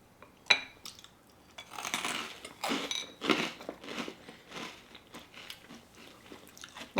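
A hard, crunchy crouton topped with cream cheese is bitten and chewed up close, giving a run of sharp crunches that soften into steady chewing, with a faint clink of utensils.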